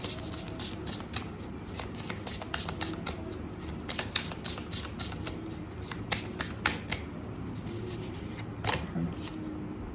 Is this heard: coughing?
no